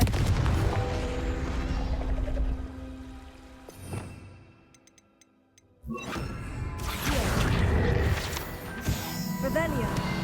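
Blasting spell explosions in Hogwarts Legacy erupt as loud, booming bursts with rumbling tails, dropping to a near-silent gap before another burst of impacts and clattering game effects.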